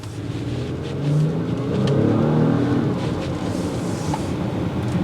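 A 2022 Acura MDX Type S SUV engine revs in comfort mode, a steady smooth rise and fall of engine drone heard close and alone.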